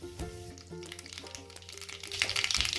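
Whole spices, including cardamom, cinnamon sticks, bay leaves and a spoonful of mustard seeds, sizzle and crackle in hot oil. The close frying hiss grows busier and louder toward the end.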